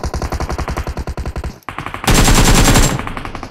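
Rapid automatic gunfire in BGMI, a mobile battle royale, rattles out as a steady run of evenly spaced shots. It pauses briefly, then a denser, louder burst of fire follows close up.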